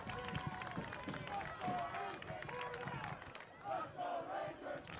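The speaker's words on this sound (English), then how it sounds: "You can hear the student section coming alive." Student section crowd at a high school girls varsity soccer state quarterfinal, yelling and cheering in a loud, rowdy wash of many voices with some clapping, rising and falling in waves.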